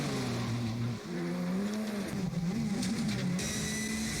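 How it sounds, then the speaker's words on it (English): A Ken Block Gymkhana race car engine drones and revs steadily, with sharp crackling anti-lag pops and bangs from the exhaust breaking through near the end. "that's like actual anti-lag"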